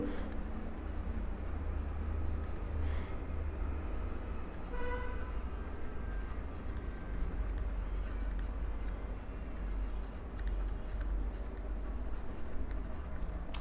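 Marker or chalk scratches across a board in a classroom lecture, a soft, continuous rubbing texture beneath a steady hum of background and faint street noise.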